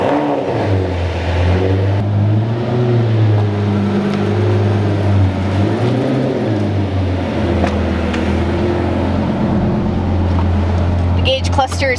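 A Lamborghini E-gear transmission drones steadily, close and loud, its low hum carrying wavering higher tones that rise and fall throughout.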